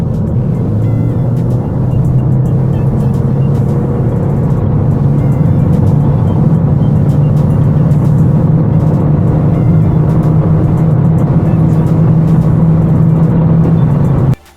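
A 2019 Toyota Corolla 1.8 Hybrid accelerates, building into a steady, loud whirring drone that rises slightly in pitch and holds for over ten seconds before cutting off abruptly, with no talking.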